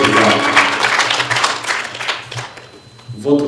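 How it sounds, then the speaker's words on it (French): Crowd applause with cheering at a political gathering honouring women who rose to power, a dense sustained roar of clapping that thins out near the end, with voices mixed in. "est-ce qu'on peut vraiment applaudir encore, acclamer très fort"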